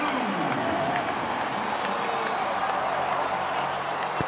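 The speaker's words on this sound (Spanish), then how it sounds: "Inclusive los del Manchester United están aplaudiendo ese golazo." A stadium crowd at a Real Madrid versus Manchester United match in Houston roars and applauds a goal, a dense, loud, sustained wash of cheering and clapping heard from within the stands.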